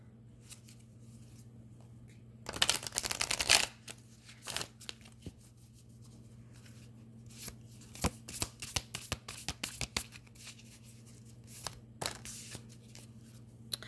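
Tarot cards being shuffled at a reading, a dense riffling burst early on followed by scattered soft flicks and slaps of cards, quiet and close over a low steady hum.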